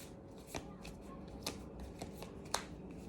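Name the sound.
tarot cards being shuffled and drawn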